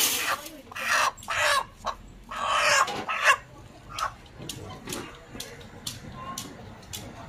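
Live chickens for sale at a market cluck in short, loud, broken bursts. Softer clucks continue toward the end over steady market background noise.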